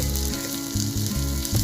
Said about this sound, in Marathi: कांदा थोडासा लाल होऊन द्यायचा पटकन